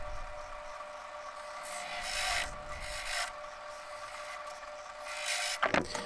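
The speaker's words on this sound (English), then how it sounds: "zebra wood is easier to work with on a lathe with scrapers rather than sharp gouges and chisels" A scraper shapes a zebrawood jar spinning on a wood lathe, giving a steady, close rasping scrape that swells and eases in passes, ending with a few sharper knocks.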